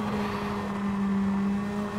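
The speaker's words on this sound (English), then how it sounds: "Popping and banging all over the place." Race car in the Gran Turismo 7 video game, a loud steady engine drone with a strong sustained tone, held at constant level without clear separate pops or bangs.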